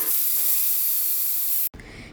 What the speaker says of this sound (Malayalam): ഇനി കുക്കർ അടച്ച് ഒരു 2-3-4 വിസിൽ അങ്ങ് പോയിക്കോട്ടെ,